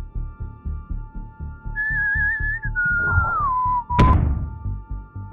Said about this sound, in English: We can now hear when the spaceship arrives.